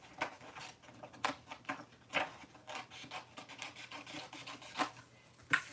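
Card stock being trimmed with a hand tool: a series of short, dry scraping and slicing strokes in an irregular rhythm, close and fairly soft, with light handling noises between and no talking.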